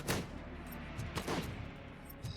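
Several muffled gunshots in the first-person shooter RoboCop: Rogue City, three or four sharp reports spread over two seconds against a steady background of game noise, fairly faint overall.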